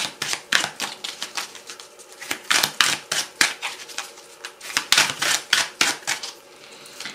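Tarot cards are drawn and laid out in a quick series of sharp, close slaps and flicks, irregular but busy throughout, with no talking.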